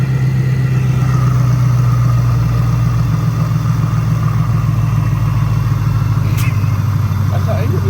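A Chevrolet Camaro ZL1 V8 rumbles at a loud, close, steady idle with a deep low drone, and no clear rev rises above it.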